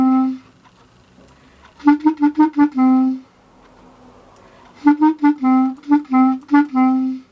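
J-Hope's part of the chorus, played as two short phrases of quick, clipped notes separated by a pause, each phrase ending on a held note, played alone and fairly close.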